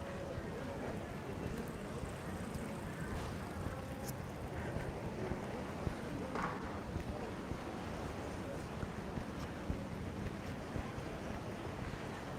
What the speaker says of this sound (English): You can just hear the sea